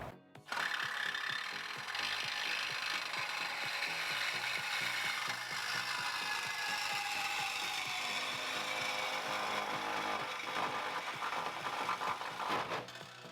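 A power tool grinds harshly through a metal exhaust pipe on a 2013 BMW F30 335i xDrive in one continuous, loud, close cut lasting over ten seconds before stopping.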